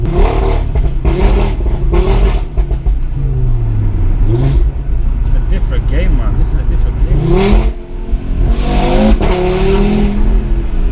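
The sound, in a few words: Audi RS3 exhaust revving, decat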